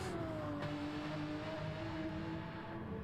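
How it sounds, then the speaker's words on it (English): A BMW race car at the Nürburgring 24-hour race, its engine droning steadily at a distance with a sustained, slowly falling tone, fairly faint against track ambience. "BMW running strong here at the Nürburgring."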